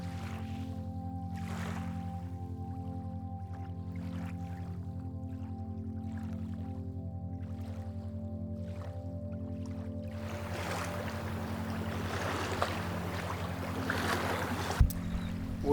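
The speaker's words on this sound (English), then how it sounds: "We are still beautifully sailing downwind." A sailboat running downwind through open saltwater among mountains and cliffs, heard as a steady low hum with soft, recurring swishes of water along the hull and a rising rush of wind and spray toward the end.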